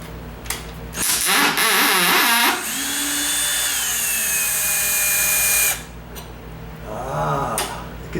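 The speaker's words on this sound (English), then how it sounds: "Let me get my drill out." A power drill whirs loudly in a long run with pitch shifts while fixing a sagging door, with clattering and handling noises before and after and a brief second burst near the end.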